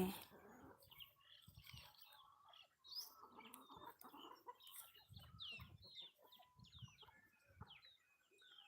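Chickens cluck and chatter while scratching through a heap of cow dung refuse in the morning, with several birds making overlapping calls close by and some rustling underneath.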